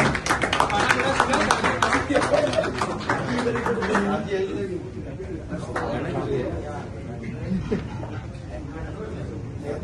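Guests clap together at a lively gathering honouring a visitor's arrival at a party, a dense loud patter for about four seconds that thins out, with voices talking over and after it.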